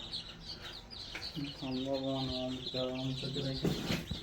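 Chickens cluck in a short run of harmonic, stacked calls through the middle of the clip, fairly close, over a steady backdrop of chirping birds and rustle.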